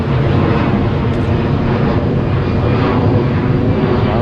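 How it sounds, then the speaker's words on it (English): A loud airplane passes overhead near JFK airport in Queens, a broad steady engine roar that fills the whole moment with no talking. "that's an airplane, because JFK is not far from here"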